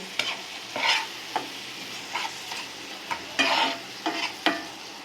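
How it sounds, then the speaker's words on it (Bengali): Spice paste with a splash of water sautés in a pan for an eel fish bhuna, with a soft sizzle under repeated scraping strokes of a spatula in short bursts, near and fairly clear. "এখন আমি মশলাটা কষিয়ে নেব।"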